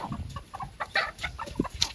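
Native chickens cluck in short, uneven bursts close by, with a few sharper calls scattered over the clucking, on a farm.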